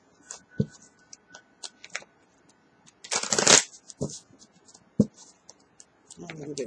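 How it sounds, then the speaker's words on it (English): A deck of tarot cards gets a big riffle shuffle, a dense crackling burst in the middle, with lighter card taps and handling clicks scattered before and after. "Let's give it a good shuffle here."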